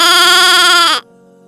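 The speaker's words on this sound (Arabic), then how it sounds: "ثغاء الشاة." A single sheep bleat, loud and close, holds steady with a wavering tone for about a second, then cuts off to near silence.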